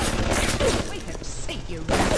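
Turret gunfire in Bioshock, rapid loud bursts of shots at the start and end of the moment, with a voice talking in the quieter middle.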